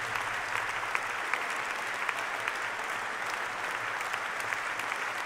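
Sustained applause fills the large hall of TivoliVredenburg after an early-music performance of Eccles' Semele, an even wash of many hands with scattered sharper claps, fairly distant and unbroken.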